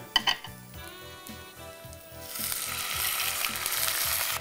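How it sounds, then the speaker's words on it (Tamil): Dates are lightly sautéed in a pan and then simmered with a splash of water. A few clinks at first give way to a rising steady sizzle over a soft rhythmic background beat. "இந்த பேரிச்சம்பழம் லேசாக வதக்கினதுக்கப்புறம் கொஞ்சமாக தண்ணி விட்டு வேக வச்சுக்கலாங்க."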